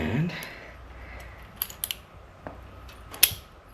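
Side cutters snip at a spring compressor during carburetor work on a 1969 Honda CD90Z: a few quiet, sharp clicks spaced apart in a still room.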